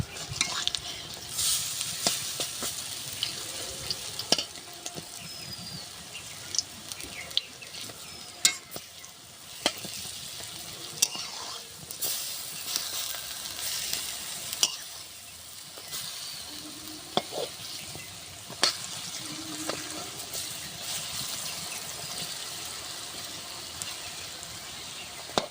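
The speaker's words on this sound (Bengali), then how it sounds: "বড়াগুলো সুন্দর করে ভাজা হয়ে গেছে" Lentil fritters (bora) frying in hot oil give a steady close crackling sizzle for the whole stretch, with occasional sharper clicks and scrapes as they are turned, and no talking.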